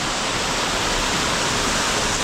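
A waterfall inside a cave in Bali roars as a loud, close, unbroken rush of water that fills the whole stretch without pause.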